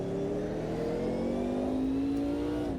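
A race car engine in the Automobilista 2 video game holds a steady loud drone, with its pitch sliding slowly upward as it accelerates, continuous and close.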